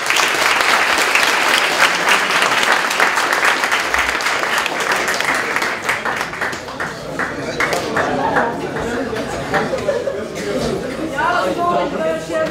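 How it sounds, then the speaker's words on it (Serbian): An audience at a computer high school student presentation in Novi Sad applauds, with loud, sustained clapping that gradually thins out into scattered claps while people chatter and speak over it. "Ja vas molim da još jednu aplauzu pozdravimo sve ove reči."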